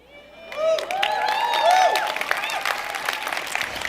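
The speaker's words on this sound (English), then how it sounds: "This degrowth advocate wins applause" An audience applauds a degrowth advocate, building from a start into sustained clapping and crowd noise, with whistling or cheering tones rising above the clapping early on.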